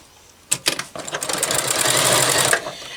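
A Janome MC 6650 sewing machine runs steadily, speeding up after a few short starts into a continuous close whirring stitch for a couple of seconds before stopping.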